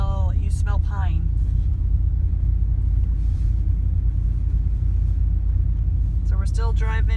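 A car driving in along a forest road toward a free campground near Klamath Falls, Oregon, a steady low rumble of engine and tyres held throughout, with people talking inside at the start and end.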